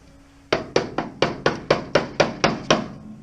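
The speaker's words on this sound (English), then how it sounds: "And now I'll get our trusty woodworking chisel, you up in behind there," A woodworking chisel struck with a hammer against the subframe of an HT Holden car, giving about ten sharp, evenly spaced metallic blows in a quick steady rhythm, loud and close, with no talking.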